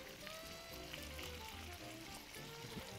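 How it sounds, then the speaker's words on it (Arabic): Chicken wings fry in a pan with a steady, dense sizzle of hot oil, continuous and fairly quiet at close range. "بدنا نقليهم. بدها قلي صغيره."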